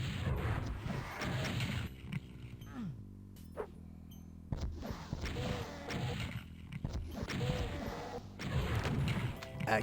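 Rocket explosions in Final Doom's Plutonia, repeated heavy crashing blasts amid chaotic game combat noise, with a brief quieter gap between loud bursts.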